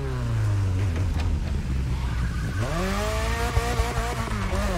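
A BMW M3 E30 Sport Evolution racing car in The Crew Motorfest roars steadily, its engine revving up and down through gear changes as it accelerates, loud and close without any talk.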